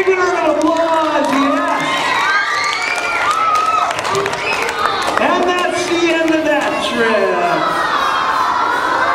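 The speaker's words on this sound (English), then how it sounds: "Give her a big round of applause" Children in a school audience cheer, shout and clap loudly at an elementary school magic show, a continuous excited roar of high voices layered over applause throughout.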